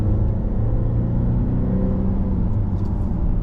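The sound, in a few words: supercharged 2025 Volvo XC90 accelerating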